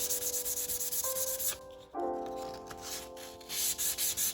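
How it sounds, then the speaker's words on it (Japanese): Putty being sanded smooth on a wooden floor repair, steady rhythmic back-and-forth rubbing strokes, close and continuous, with tonal music playing underneath and no speech. "理想は傷の部分だけパテが残るように研磨することです"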